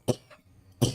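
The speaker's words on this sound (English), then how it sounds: "you can keep coughing" A person coughing nearby, two sharp coughs with a fainter one between them, short and close, with no talk over them.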